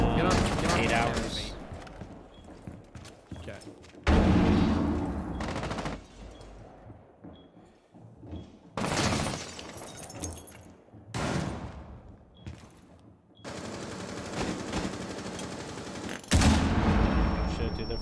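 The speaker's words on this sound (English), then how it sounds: "They're blowing up all my shit, dude." Rainbow Six Siege match on the Chalet map, with explosions and gunfire: loud bursts of rapid shots and blasts come in separate waves between quieter gaps.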